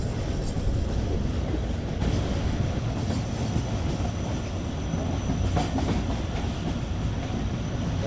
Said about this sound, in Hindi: ट्रेन हमारे स्किप कर रही है ताजपुर नज़रपुर रेलवे स्टेशन को